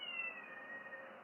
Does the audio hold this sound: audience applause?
no